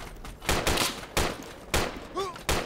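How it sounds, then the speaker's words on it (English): Bursts of rapid gunfire in a military video game crack out in several short volleys, fairly loud over a busy background. "Oh, taking fire!"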